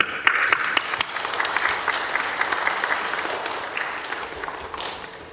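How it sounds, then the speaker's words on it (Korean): A chapel audience gives welcoming applause as a guest preacher comes forward, a moderate, steady patter of many hands that thins slightly as it goes on. "우리 나오실 때 우리 격려의 박수 부탁드리겠습니다"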